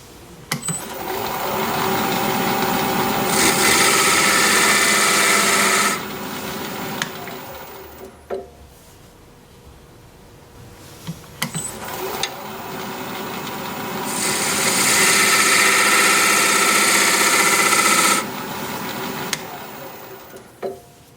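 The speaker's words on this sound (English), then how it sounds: "I'll take my homemade point tool and just draw a little circle around" A homemade point tool scores a small circle into a wood-turning project spinning on a lathe, producing a close, steady scraping hum in two long passes, each swelling louder mid-cut, separated by a quieter stretch of motor whir.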